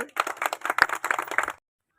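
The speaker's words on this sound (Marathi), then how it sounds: "कृपया सर्वांनी एकदा टाळ्या वाजवा" Audience at a community event for a tribal girl's education aid, clapping in a brief dense burst of many hands for about a second and a half, then stopping abruptly into silence.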